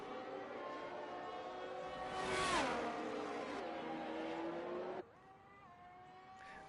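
The number 40 Ferrari F1 car roars past in F1 23 at Miami, its high engine note climbing and dropping through gear changes, loud and near, then falling away as the car moves off.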